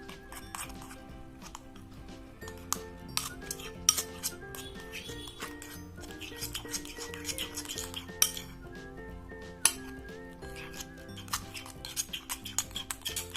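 Slime containing air freshener being stirred in a bowl, with steady wet clicking and scraping of utensil against the dish, frequent sharper clinks scattered throughout, fairly close and moderately loud with no talking.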